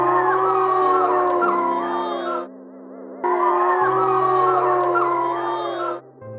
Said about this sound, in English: What does the wolf say?